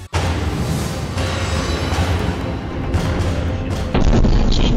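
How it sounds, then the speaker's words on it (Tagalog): Missile strike blast near a maternity clinic in Kyiv, Ukraine, caught on a dashcam: a sudden loud boom opens into a sustained roar of rumbling noise and debris that surges again near the end. "Kita sa dashcam ang pagsabog sa maternity clinic na yan sa Kyiv, Ukraine."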